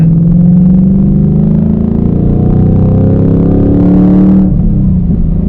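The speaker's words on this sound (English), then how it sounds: "I love the rev matching on here." A boosted 2021 Ford Mustang Mach 1 engine revs loudly and up close, a steady droning roar climbing in pitch for several seconds before the revs drop sharply and it settles back down.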